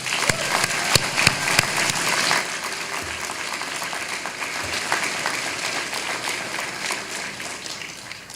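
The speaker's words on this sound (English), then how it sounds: "Please, one more round of applause." Applause from a commencement audience at SUNY Ulster fills a large hall, loud and dense at first with sharp claps, then settling into a steadier, softer wash that carries on to the end.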